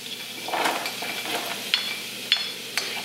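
Onions and carrots sizzle and crackle in a large pan, with a spoon stirring and scraping the metal, close and moderately loud.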